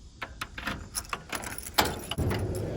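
Trunk keys for a Ford Galaxie jangle in a series of bright, close metallic clinks and rattles, with a few sharper handling knocks near the end.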